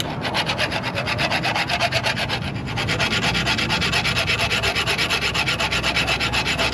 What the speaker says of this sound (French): on est obligé de limer pour remettre à niveau pour pouvoir passer dans le trou de l'axe du cadre côté extérieur